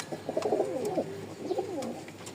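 Pigeons kept for sale in Mirpur, Dhaka cooing in two close, rolling phrases, soft and near, with no talk.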